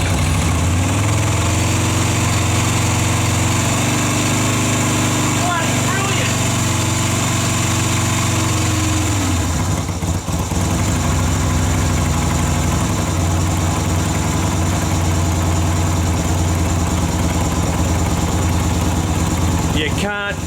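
Yamaha Virago 250 motorcycle engine idling close by, a steady low throb with a brief dip partway through, while a person talks over it.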